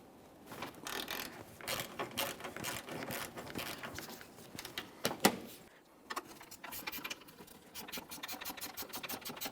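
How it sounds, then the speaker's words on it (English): A long ratchet loosens a rusted strut bolt on a 2008-2017 Mitsubishi Lancer, giving rapid, close clicking and grinding bursts that pause briefly midway and then resume, with no talking. "I'll be using a long ratchet to break it free."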